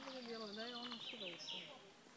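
A bird at a campsite gives a short run of bright chirps and tweets, close but fairly quiet, against a calm background.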